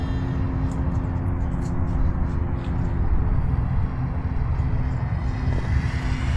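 A HobbyZone Champ RC microplane's electric motor runs at full throttle, a steady buzzing drone under wind noise from an outdoor flight, constant level throughout.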